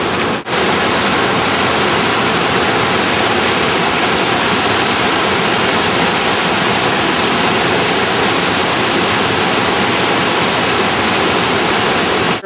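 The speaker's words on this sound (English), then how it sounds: "There's the Kings River once again, raging in its all its glory." The Kings River raging along the Rae Lakes Loop near a bridge, a loud, steady, broadband rush of fast whitewater, constant and close after a brief opening bump.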